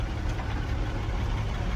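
Truck tractor diesel engine idling and lugging in low gear during a parking brake test, a steady low rumble with a faint knocking texture, close and continuous with no talk.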